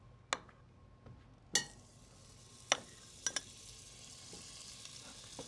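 Butter melts in a pan with a low, quiet sizzle, broken by several sharp metallic clicks and taps of a utensil against the pan.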